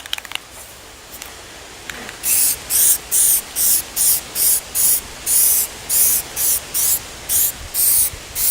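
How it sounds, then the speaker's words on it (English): Khaki Rust-Oleum spray paint hisses onto a tree trunk made from a 2x4 in a series of about a dozen short, loud, evenly spaced bursts after a few quiet seconds, close up with no talking. "I'm going to paint the trunk this khaki color by Rust-Oleum"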